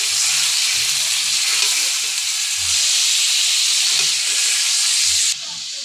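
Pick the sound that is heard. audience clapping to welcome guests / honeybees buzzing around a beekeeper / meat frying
meat frying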